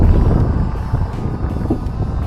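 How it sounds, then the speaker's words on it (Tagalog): Strong wind buffets loudly and continuously, a heavy low rush with no voices. "lakas pa rin ang hangin"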